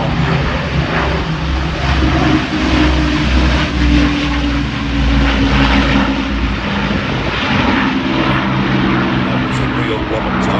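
Battle of Britain Memorial Flight bomber passing at the Midlands Airfestival, a loud sustained drone of piston propeller engines that holds steady throughout, with commentary talk over it.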